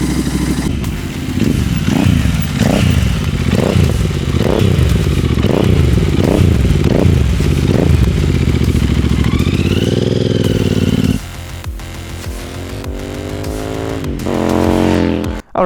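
A Royal Enfield race-build motorcycle engine running with a deep, bassy, loud throb, rhythmic thumping pulses as it revs, then a steadier rising drone near the end, close and alone.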